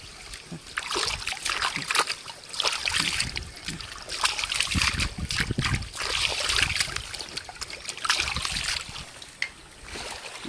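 Water splashing and dribbling as hands wash in a murky river, uneven splashes and trickles close by, with a little talk in the background.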